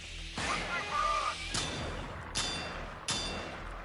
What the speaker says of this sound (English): that's the sound of my gun running out of ammo